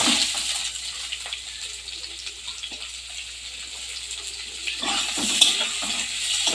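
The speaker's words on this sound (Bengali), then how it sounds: "আর দিয়ে দেবো কুচি রাখা পেঁয়াজ" Chopped onion hitting hot oil in a pan for a potol and shrimp curry: moderate sizzling hiss with a few stirring scrapes, swelling louder near the end.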